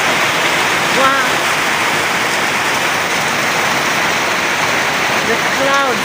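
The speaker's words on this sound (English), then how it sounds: "It's still coming to rain a lot." Heavy rain and rushing water roar as a loud, steady wash through the whole span, with brief faint vocal sounds near the start and end.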